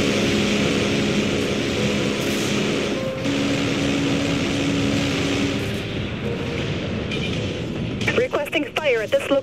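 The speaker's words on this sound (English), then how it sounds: "Full power to maneuvering thrusters." Spaceship thrusters roar at full power during maneuvering in the Dreadnought game, Valcour gameplay, a loud continuous rumbling drone with shifting engine tones and bursts of effects near the end.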